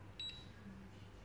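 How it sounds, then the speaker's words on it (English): A single short electronic beep from a Lutron AQ-9901SD handheld air quality meter, faint against a low background hum and followed by quiet room noise. "This is the beep sound"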